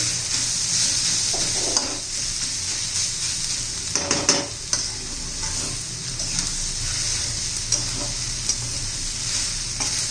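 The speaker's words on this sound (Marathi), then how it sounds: "परतून घ्यायचं चांगलं दोन तीन मिनटं तेलामध्ये गवार पण अशी भाजून निघली पाहिजे चांगली" Cluster beans sauté in oil in a pan for a spiced keema-style dish, with a continuous bright sizzle and scattered scrapes and clinks of a spoon stirring, no voices.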